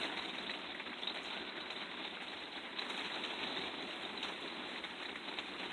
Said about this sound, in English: We're in our motorhome during a rainstorm here on the coast of Oregon.